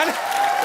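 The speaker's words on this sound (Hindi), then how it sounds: "जोरदार तालियां।" An audience at a comedy talk show bursts into applause, a dense patter of clapping heard briefly under a sustained tone, with voices mixed in.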